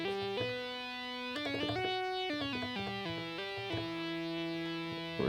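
A Behringer Brains synth module plays a stepping sequence of buzzy, harmonically rich distorted tones, each note shifting pitch in quick succession, loud and continuous with no talking.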